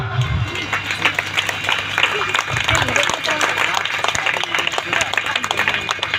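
An audience claps to welcome a guest at a Navratri Garba festival in Dudhamali, a dense, steady round of applause lasting throughout, with crowd noise and voices mixed in.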